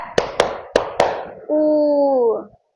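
A teacher claps out a count in a classroom: four sharp, separate hand claps in an uneven rhythm, followed by a sustained voiced tone.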